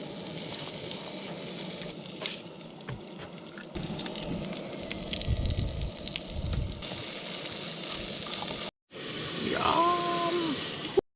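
Food sizzling in a hot pan, a continuous crackling fry that shifts in loudness across several abrupt cuts, with brief scraping and stirring noises and a short silent gap near the end.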